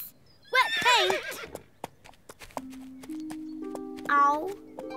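A cartoon horse gives a loud shrill whinny near the start, followed by light clip-clop steps and a second short neigh, with speech and a sustained musical tone in between.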